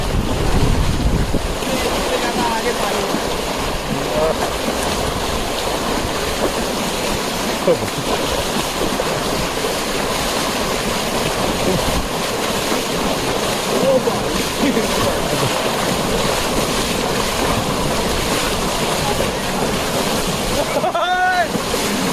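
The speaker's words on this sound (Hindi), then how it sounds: "पानी तो खतरनाक चल रहा भाई।" Loud, continuous rush of a swollen, fast-flowing river mixed with wind buffeting the microphone, steady throughout with a brief voice near the end, near Jim Corbett National Park.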